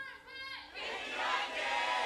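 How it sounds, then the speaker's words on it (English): Esports fans in a packed house at Yongsan Esports Stadium cheer and shout during a League of Legends match, a big crowd roar that swells and holds steady throughout. "CJ fans cheering."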